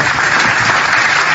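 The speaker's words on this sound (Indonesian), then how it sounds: "Pantas dapat tepuk tangan dari Bang Suma." Brief burst of audience applause at a talk show style discussion, a dense wash of clapping hands, loud and continuous for just over a second with no voices over it.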